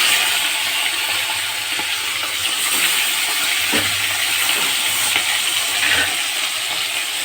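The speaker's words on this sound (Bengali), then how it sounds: "অল্প অল্প করে এটা ভেজে নেব" Fish head pieces sizzle steadily in hot oil in a pan, a loud, unbroken crackling hiss with small pops that carries on alone for several seconds.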